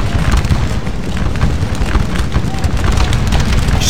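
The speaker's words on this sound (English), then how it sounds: "Let's get a nice side view here of the gunfire." Musket volleys in the Napoleonic-era battle game Scourge of War: Waterloo, a dense, continuous crackle and rumble of rifle fire from massed infantry lines, loud and steady throughout with no pauses.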